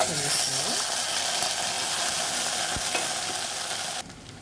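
Tuber pieces frying with turmeric and ginger-garlic paste in a pan, giving a loud, steady close-up sizzle with scraping stirs throughout that drops off abruptly near the end.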